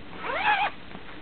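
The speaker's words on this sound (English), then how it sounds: "first unzip your zipper" A single quick zip rising in pitch as an invisible zipper is unzipped, close and fairly faint, then quiet.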